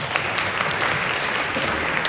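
Dense, steady audience applause fills a hall at a Korean book talk marking the 150th anniversary of President Syngman Rhee, with many hands clapping evenly at a constant loud level for the whole stretch, no voices rising above it.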